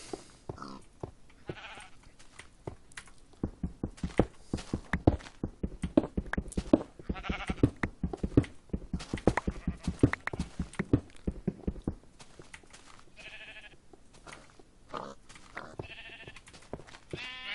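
Sheep in an early alpha build of a blocky sandbox game bleat repeatedly amid a fast run of clip-clop footsteps, close and fairly loud, with no talking.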